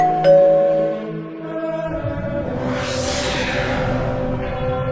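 A single bright chime rings out and fades, followed by a rising, swelling whoosh that holds to the end.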